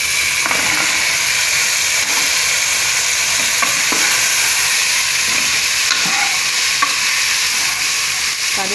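Cauliflower being stirred and fried with softened onions in a pan for a pea kurma: a continuous, close sizzling hiss with occasional soft scrapes of the spoon, and no talking.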